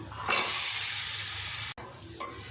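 Potatoes and peas drop into frying masala with a sudden burst of sizzling that settles into a steady hiss, briefly cut off near the end and then resuming more softly.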